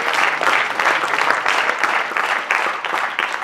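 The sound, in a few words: applause for a triathlete at a press conference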